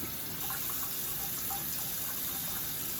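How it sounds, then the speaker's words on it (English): Tap water runs steadily while hands and forearms are rinsed at a sink, a continuous even gush with no speech. "I will rinse my hands and my arm."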